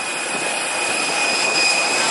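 A Jetstar airliner's jet engines make a steady, loud, broadband roar with a thin high whine, heard from beneath the plane on the airport apron, and the sound builds slightly toward the end.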